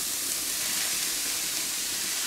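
White cabbage sizzles in a frying pan over medium heat, giving off a steady, close, broadband hiss with no pauses and no talking.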